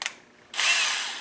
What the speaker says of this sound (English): we'll get a drill bit that's the same size as the rivet that we're going to install